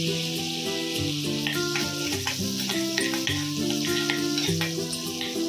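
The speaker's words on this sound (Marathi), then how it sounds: "आता आपण याला फोडणी देणार आहोत।" Mustard seeds and cumin sizzle and crackle in hot butter as a tempering for Mumbai-style pav bhaji, a steady close fry with small pops and stirring scrapes, with tonal music playing over it.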